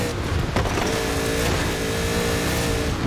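Engine of a McLaren Senna supercar in Forza Horizon 4 holding a steady, loud drone with harmonic lines rising slightly, continuous throughout without speech.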